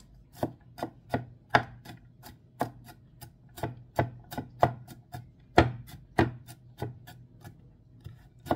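A knife chops garlic finely on a board, giving a series of about twenty close, crisp thuds in an uneven rhythm with no talking.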